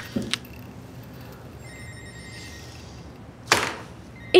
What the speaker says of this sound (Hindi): ओजान, ओजान फोन उठाओ, क्यों नहीं उठा रहे हो?